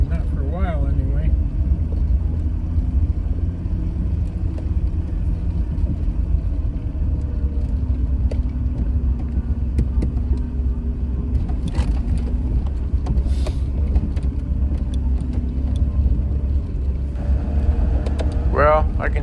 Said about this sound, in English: WJ on 29-inch tires running about 20 pounds of pressure does a damn fine job of climbing these hills.